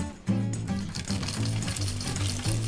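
Salted shrimp sizzle and clatter as they are stir-fried in a pan with fried garlic for chili-salt shrimp, close and loud with rhythmic scraping over a continuous hiss.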